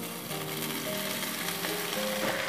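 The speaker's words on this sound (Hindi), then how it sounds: "आलू टमाटर हमारे फ्राई हो चुके हैं" Diced potatoes and tomatoes frying in a pan for sabudana khichdi, a steady, dense sizzle with faint stirring clicks, close and continuous with no voices.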